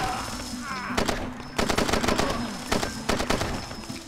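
Video game gunfire comes in rapid automatic bursts separated by short pauses, loud and close, with faint game sounds behind it.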